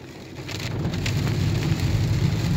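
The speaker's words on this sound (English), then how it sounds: "This is rain. You wanted rain? You got it." Steady rain falling outdoors, a continuous wash of patter that grows slightly louder over a few seconds, with a low rumble underneath and no voices.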